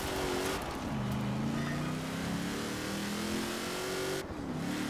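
A 2006 Hummer H1 Alpha open-top racing in Forza Horizon 4, its engine droning loudly and steadily as it accelerates, pitch climbing through gears with a brief drop near the end, alone without talk.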